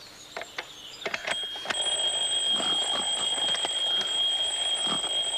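An alarm clock rings to wake a grandfather in a narrated orchestral tale: a few sharp clicks, then a continuous loud metallic bell ring that holds steady to the end.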